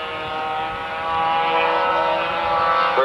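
A propeller aircraft makes a high-speed low pass at an air show, its engine drone building steadily, then rising in pitch as it sweeps past.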